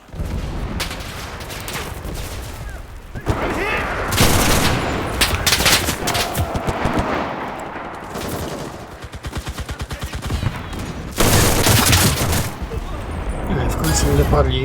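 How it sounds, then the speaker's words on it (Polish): Short, rapid bursts from an RKM Stinger light machine gun in the shooter game Enlisted crack out loud and close, repeating in quick clusters, while someone talks over much of the firing. "oddawane króciutkie serie są bardzo skuteczne i bardzo celne"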